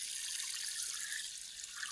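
Water trickles and drips steadily among maize plants, a soft continuous hiss close by with no voices.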